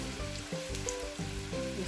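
Oil sizzles steadily in a frying pan as turkey flautas cook, a close, continuous crackling hiss with no talking.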